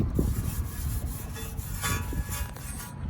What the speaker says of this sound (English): grab your cone brush of choice. And then you're going to get in there and agitate.